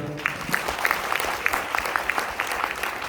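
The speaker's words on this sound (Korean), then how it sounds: "박수 한번 주세요" A seminar audience at Sono Belle Cheonan claps together in a round of applause, a lively crowd of distinct hand claps pattering steadily without letup.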